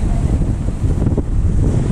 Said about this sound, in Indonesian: gulung-gulung ni ombak